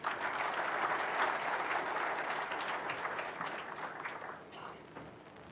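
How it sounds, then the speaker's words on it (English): Audience applause at the Connected Africa Summit in Nairobi, a steady wash of clapping from a sizable crowd that gradually thins and fades near the end. "Please, another round of applause for our young innovators."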